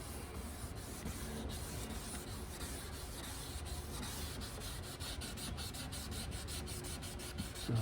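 A plastic car headlight lens being hand-sanded with progressively finer grit, giving a continuous close, even rasping scrub with rhythmic strokes toward the end, no voices.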